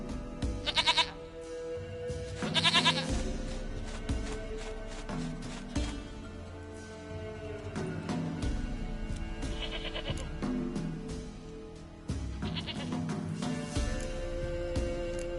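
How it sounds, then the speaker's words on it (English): A goat in The Witcher 3 gives several loud, wavering bleats near at hand, scattered across the stretch between game music and ambient sound, with no talk over them. "Goat of mine, dearest, sweetest goat."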